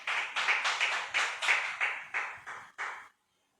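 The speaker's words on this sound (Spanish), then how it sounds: "Oye, ese aplauso estuvo como flojo." A church congregation claps together in a rhythmic series of about ten bursts of applause that stop abruptly, fairly faint and with no voices.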